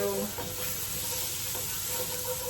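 Garlic sizzles and crackles steadily in a hot pot while a spoon stirs it around, a close, continuous frying hiss with occasional scraping for tomato cheddar soup.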